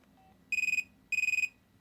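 Two short bursts of a high electronic ringtone from a Panasonic flip mobile phone, each a quick trilling pulse train, close and clear against near silence.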